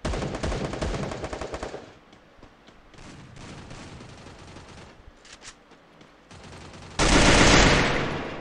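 Rapid automatic gunfire rings out in the Garena Free Fire battle royale during a solo versus squad match, with loud bursts at the start, quieter scattered shots in the middle, and a heavy sustained volley near the end, no speech.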